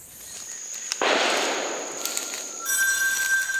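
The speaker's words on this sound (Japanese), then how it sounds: "焦るフランシスコはデルリンの銃声で逃げ出した獲物を狙うが、なかなか撃てない" A single hunting gunshot rings out in a forest during a hunt with indigenous hunters: a sharp, fairly distant crack early on that trails off into a long noisy decay, surrounded by steady high insect or bird tones.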